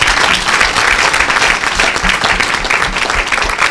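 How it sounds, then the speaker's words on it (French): Church congregation at an evangelical service breaks into loud, sustained applause, dense clapping from many hands filling the room with no pause. "Acclamez le Seigneur."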